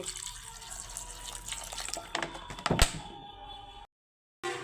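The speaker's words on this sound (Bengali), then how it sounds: "এই যে সামান্য একটু জল দিয়ে দিচ্ছি" A little water poured into a cooking pot for a village-style dish of taro, Malabar spinach and prawns, a close splashing pour with a few clinks, then a brief silence.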